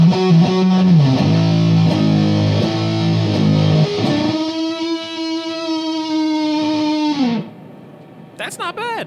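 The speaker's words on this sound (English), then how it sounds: "Stacking two of these, I assume, is gonna lead to some decent doom tones." An electric guitar runs through two stacked Big Muff fuzz pedals, giving loud, thick, distorted chords that ring out into a long sustained note before cutting off, with a brief voice at the end.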